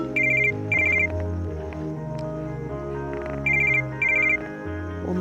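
A telephone rings out during a call to the speaker's mother, with two pairs of bright electronic ring bursts separated by a pause over a soft musical ringback tune.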